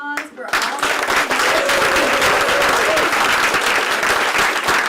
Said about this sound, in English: if we could have one more round of applause for all of us